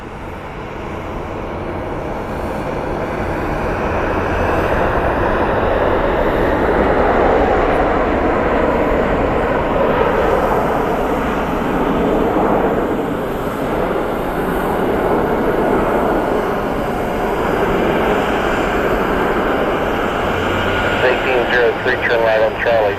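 A Southwest Airlines jet taxis at Columbus Glenn Airport, a loud sustained engine roar and whine that swells and holds for over twenty seconds, with crackly air traffic radio chatter over it.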